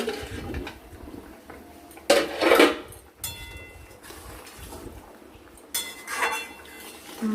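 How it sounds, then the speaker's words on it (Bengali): A metal lid comes off a cooking pot of simmering hilsa fish with two sharp clanks and scrapes, close and clear, separated by a quiet low hum. "এবার আমরা ঢাকনা খুলে দেখব"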